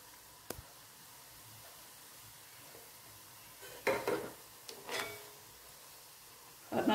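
Vettu cake batter fries in hot oil with a soft, steady sizzle, broken by a few brief clinks and scraping stirs of a utensil in the pan; no one speaks.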